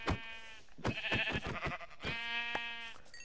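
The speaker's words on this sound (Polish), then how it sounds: "Misję, zabić owce." Sheep bleating in the video game Minecraft, two clear wavering bleats separated by a series of short clicky game sounds, fairly quiet and with no talking.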